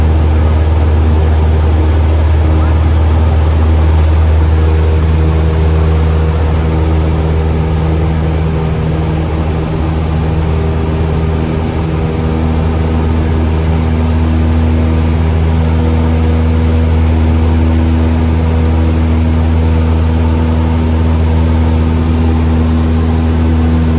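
A small training aircraft's engine drones loud and steady from inside the cabin during a first flight lesson, a constant low hum with no breaks or voices.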